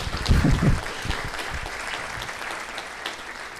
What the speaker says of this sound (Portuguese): Vamos dar uma salva de palmas aqui para o